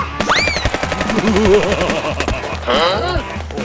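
Rapid gunfire from a Roblox game, a fast regular rattle of shots running throughout, with excited voices shouting and exclaiming over it.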